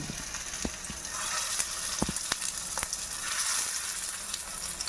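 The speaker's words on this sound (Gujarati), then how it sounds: "આ બધા રોલ રેડી થશે અને પછી એને આપણને સેલો ફ્રાય કરશું." Beetroot tikki rolls shallow-fry in oil with a steady, fairly soft sizzle, broken by a few brief clicks and taps close by. No one speaks.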